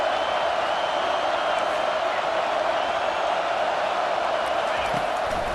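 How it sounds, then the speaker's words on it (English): Steady, loud roar of a stadium crowd at a video game college football matchup between Alabama and Michigan, building as the defense faces third down, a continuous wash of cheering with no clear voices. "Decibels rising as the crowd gets behind this defense on 3rd down."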